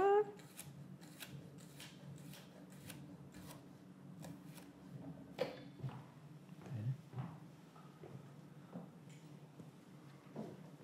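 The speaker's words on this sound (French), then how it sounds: "Fait que je coupe finement, petit concombre en biseau comme ça." Knife finely slicing a small cucumber on the bias into a bowl, a steady run of crisp rhythmic cuts that thins out midway, close but soft, with a low hum in the background.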